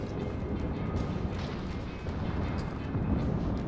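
Secondary guns on a warship in World of Warships fire as a dense, continuous rumble of booming shots and impacts, loud and sustained throughout, with no talking.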